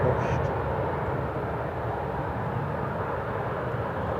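A British Airways shuttle airliner arriving at Manchester Airport gives a loud, steady broadband jet roar that fills the scene without letup, with a person talking over it.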